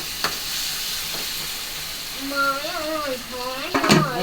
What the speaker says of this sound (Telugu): ఆనియన్స్ వేసి మగ్గినాక ఇక టమాటీలు వేస్తున్నాడు ఫ్రెండ్స్